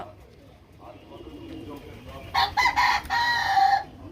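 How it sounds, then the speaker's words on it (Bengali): A flock of pigeons taking off from a rooftop, a sudden close cluster of loud wing flaps over about a second and a half after a quieter stretch of faint background sounds. "পায়রাগুলো সব উড়ে গেল"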